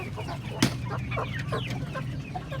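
Parawakan white chickens in a cage give short soft clucks, one sharper squawk near the start, over a constant low background hum, with no talk.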